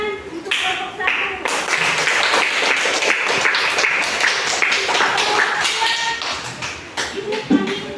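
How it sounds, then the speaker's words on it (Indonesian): Schoolchildren clap for a group in a classroom, with uneven, patchy hand claps and taps that build into a short burst and then thin out, over some shuffling. "anak-anak tepuk tangan untuk kelompok satu"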